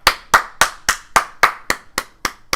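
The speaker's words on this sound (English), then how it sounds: "Sometimes I just like to give myself a round of applause to give myself a bit of a boost." One person claps steadily, about ten sharp, close hand claps in an even rhythm, with each clap ringing briefly before the next, alone without talk.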